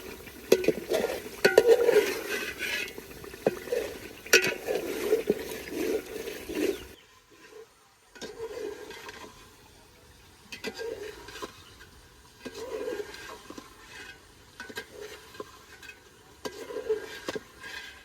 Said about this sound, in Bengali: মশলার সাথে খুব ভালোভাবে মিশিয়ে নেই